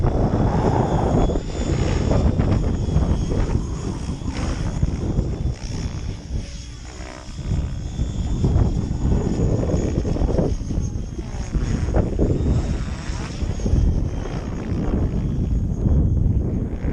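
An Align 700 electric RC helicopter with a 120 amp ESC, running at about 2020 RPM outdoors on a windy day, whirs loudly and continuously with a wavering rotor drone as it flies.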